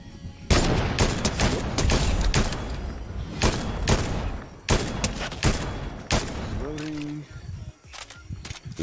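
Bursts of video game gunfire in an elimination duo match: rapid, loud volleys of shots in a dense cluster, then scattered single reports, with brief voices mixed in.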